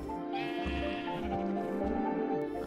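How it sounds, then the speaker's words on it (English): Sheep in the Minecraft video game bleat in a short run of wavering, nasal calls, clear and close over a faint background, with no talking. "Oh my god, I've attracted more sheep."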